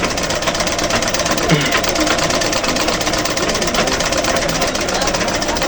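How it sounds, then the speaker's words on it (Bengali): A sewing machine stitches fabric with a rapid, steady mechanical whirring and ticking that runs unbroken throughout, close and fairly loud. "এই যে সেলাই হচ্ছে।"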